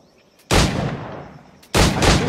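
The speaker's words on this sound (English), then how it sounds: "Pull off a few shots if you like." Two loud, sharp firearm shots about a second apart, each with a short decaying tail, from the pirate-era game Assassin's Creed IV Black Flag.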